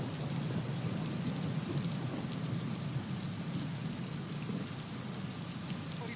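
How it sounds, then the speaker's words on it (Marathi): Heavy monsoon rain pours down in Pune during flooding along the Mutha River, a dense, even hiss of drops on surfaces holding steady throughout with no voices. "गेल्या 3 ते 4 दिवसांपासून पुण्यातही मुसळधार पाऊस कोसळतोय"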